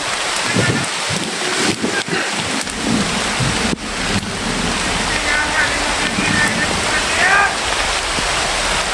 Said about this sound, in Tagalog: Sobrang lakas ng ulan to.